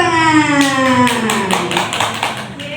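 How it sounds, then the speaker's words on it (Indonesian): A classroom audience at a school gathering clapping hands in a brief, scattered burst of applause; a tonal sliding sound sits underneath the taps. "Tepuk tangan."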